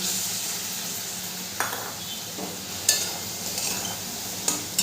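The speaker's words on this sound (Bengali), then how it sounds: "পটলগুলো দিয়েও মশলার সাথে খুব ভালো করে আমি কষিয়ে নেব" Fried pointed gourd being sautéed with a spice masala for a vegetarian doi potol: a soft steady sizzle with a few spaced clinks and scrapes of a spoon against the pan, and no talk.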